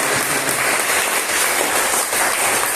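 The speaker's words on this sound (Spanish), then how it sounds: "vamos a darles un aplauso a ellos" A church congregation applauds together in a dense, steady wash of clapping that fills the room evenly, heard at moderate distance with no talk over it.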